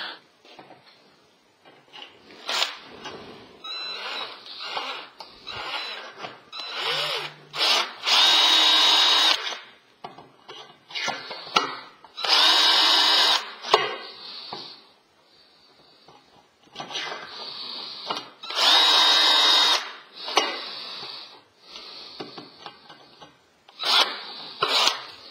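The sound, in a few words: power drill chipping paint off steel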